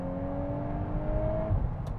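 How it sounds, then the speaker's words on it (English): A 2021 VW Golf R MK8 set to race mode idles and hums from inside the cabin, its engine and exhaust giving a steady mid-level drone with a faint tonal whine. "I'm in race mode at the moment, where you get a bit more noise from the engine and the exhaust is more vocal."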